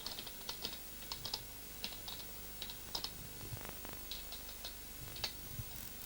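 An email address is typed on a computer keyboard: soft, quick keystrokes click at a steady, uneven pace, close but quiet, with no talking.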